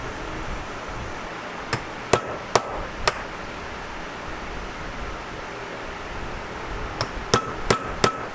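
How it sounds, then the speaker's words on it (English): Eight sharp metallic hammer taps on a center punch marking holes in a metal plate, a group of four and then another four after a pause, close and crisp over faint background hiss. "Now I'll need to precisely center punch the threaded holes"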